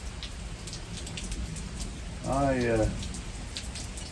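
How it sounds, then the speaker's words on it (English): Steady rain on a front porch during a thunderstorm, a continuous dense patter close by, with a short burst of speech partway through. "There's too much thunder and lightning in this storm."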